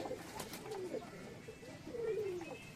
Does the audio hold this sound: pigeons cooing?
yes